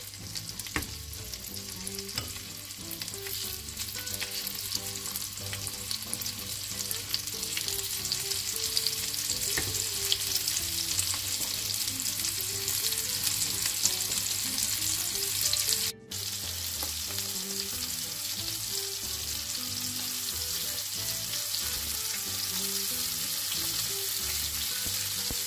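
Scallops sear in a hot pan with a continuous, close sizzle that stays even for a long stretch, broken only by a split-second dropout partway through.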